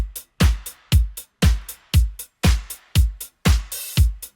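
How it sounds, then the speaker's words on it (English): Disco drum loop shaped with EQ: a punchy four-on-the-floor kick with crisp hi-hats and claps, a steady even groove of about nine beats, loud and alone. "We've got a disco drum loop, just with a bit of EQ"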